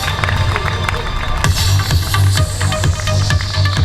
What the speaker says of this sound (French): Faites un tonnerre d'applaudissements pour Paul Fontaine.